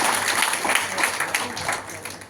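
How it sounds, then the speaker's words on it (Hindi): Audience applause at a motivational business event, a dense burst of clapping from a crowd that fades toward the end. "प्लीज उनके लिए जोरदार ताली बजाएं"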